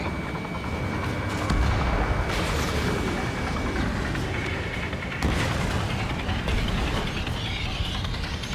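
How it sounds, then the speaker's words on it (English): Missile launches in the combat flight game Ace Combat 7, loud roaring whooshes and booms over continuous jet engine noise, with a sharp burst around five seconds. "Missile away."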